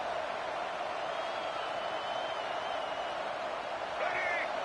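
A Notre Dame football stadium crowd roars steadily for the defense ahead of a red zone stop, a dense, continuous wall of cheering with a rising swell near the end.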